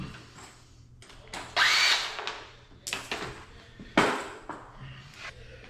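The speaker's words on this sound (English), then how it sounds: "This drill, guys, this Craftsman drill, the 20 volt" A cordless Craftsman 20-volt drill drives bolts back into an F-150 in short whirring bursts, several rising and stopping at close range, with quieter handling noise between the runs.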